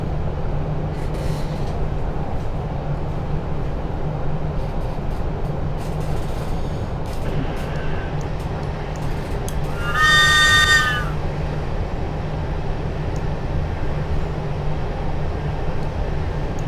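A London Underground S8 stock train in Train Simulator 2019 runs steadily with a low continuous rumble and hum near Rickmansworth, and a brief tonal chime or beep sounds partway through.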